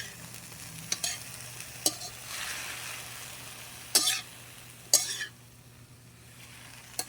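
Fern and sardines being stirred and sautéed in a pan, with a continuous soft sizzle and scraping, plus sharp clinks of the utensil against the pan, close and alone without talk.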